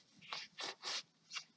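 Four short, crisp cutting bursts from scissors slicing through paper or card, spaced at an uneven rhythm, close and fairly quiet with no talk.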